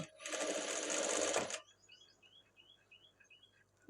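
An electric sewing machine stitches a blouse in one loud, steady mechanical whirr for about a second and a half, then stops, leaving faint chirping and quiet room tone.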